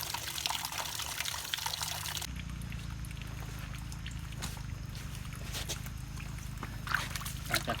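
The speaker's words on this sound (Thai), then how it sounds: "การเฉือนต้องเฉือนในน้ำนะครับ จะได้ สะดวกนะครับในการเฉือนนะครับ เป็นการล้างไปด้วยนะครับ" Banana bunches of Thai Hom Thong bananas being sliced and washed in water, giving a steady close sloshing and trickling wash with occasional splashes, a low rumbling hum underneath throughout.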